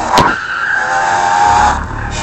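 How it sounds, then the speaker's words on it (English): An F1 car in the F1 2016 racing game brakes hard at Bahrain, its high engine whine dropping in pitch over a sustained tire squeal. It is loud and close, with no voices. "The braking zone. We have to brake and brake again."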